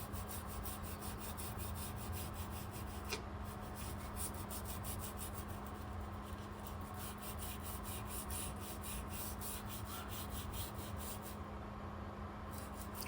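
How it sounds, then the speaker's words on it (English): A brush scrubs dirt and grease off the jaws of a Heuer Front 120 bench vice, producing quiet, rapid repeated bristle strokes in a steady rhythm, close and alone with no talking. "I'm using a brush to remove all the dirty stuff and all grease from it"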